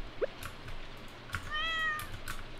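A cat in Stardew Valley gives a short, quiet meow in a calm farm scene with soft background sound.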